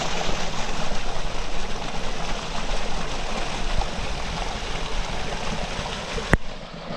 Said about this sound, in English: What a beautiful little waterfall.